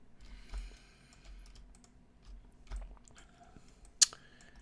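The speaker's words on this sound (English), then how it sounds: "just click on all the outside edges, like this" Computer mouse clicks while selecting the outside edges of a sci-fi taser gun model in 3D software, a few light, close clicks spread over quiet room tone, with one sharper click near the end.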